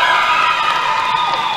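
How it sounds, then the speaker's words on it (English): Roller derby crowd in an arena cheering and applauding as a skater gets through the pack, a steady, loud wash of voices and whoops filling the space without letup. "Big round of applause for her."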